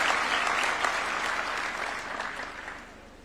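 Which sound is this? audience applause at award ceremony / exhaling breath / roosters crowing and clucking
audience applause at award ceremony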